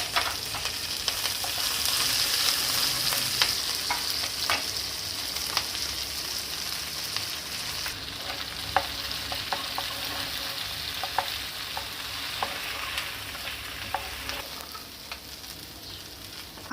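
Cumin seeds and green chillies sizzle steadily in hot oil in a pan while cooking bhindi, a continuous close crackle with occasional sharper pops and faint stirring, no voices.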